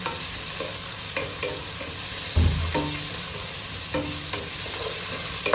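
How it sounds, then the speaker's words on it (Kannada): Tomatoes fry in a pan with green chillies while being stirred for Hyderabadi-style chicken pulao, giving a steady close sizzle marked by occasional spatula scrapes and knocks, with no talking. "ಈಗ ಟೊಮೊಟೊ ಹಾಕ್ತಾಯಿದ್ದೇನೆ. ಇನ್ನು ಒಳ್ಳೆ ಸಾಫ್ಟ್ ಆಗೋದಂತ ತಿರುಗಿಸ್ಬೇಕು."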